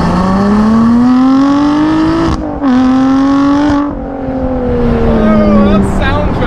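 A mid-engine Lotus Exige sports car with a manual gearbox pulls hard, its engine note climbing loud and close, breaking briefly at a gear change, then accelerating again before easing off.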